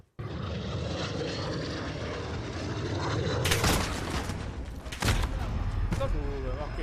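A video game airplane engine drones loudly and steadily throughout, broken by bursts of gunfire and explosions, with a voice speaking briefly over the noise.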